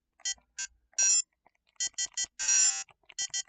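Beeping buzzer-speaker effects from a Tiger Electronics-style handheld game, a run of short shrill square-wave chirps and a few longer tones in an irregular pattern, thin and fairly faint with no talking.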